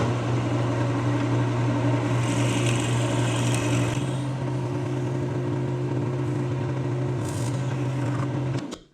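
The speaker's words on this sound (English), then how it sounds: "Now let's get the Jacob's chuck and drill a hole straight through the middle of it." Jacob's chuck drill boring a hole straight through the middle of a spinning wooden blank on a woodturning lathe, with a steady loud motor hum and a rasping cut that eases off near the end.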